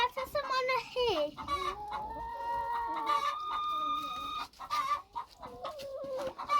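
Farm chickens cluck and call while being fed, with a string of close, repeated clucks and several drawn-out, tonal squawks layered through the whole stretch.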